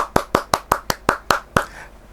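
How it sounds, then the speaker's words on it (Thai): Eight crisp hand claps in a steady, slightly slowing rhythm, close and clear, with brief room ring after each; a small group or single person clapping on a host's cue during a live-stream sales show. "ขอเสียงชาวช่องทุกคนปรบมือให้ก่อนนะคะ"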